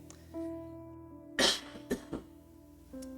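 A man clearing his throat during a church talk, one loud rough burst followed by two shorter clearing sounds over a faint sustained hum.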